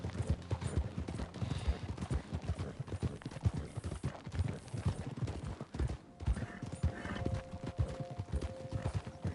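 Horse hoofbeats in the video game Red Dead Redemption 2 keep up a steady, rhythmic clip-clop of a galloping mount, loud and close throughout, with a faint tonal game sound near the end.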